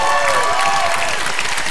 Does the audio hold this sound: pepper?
no